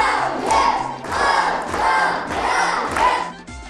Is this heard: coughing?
no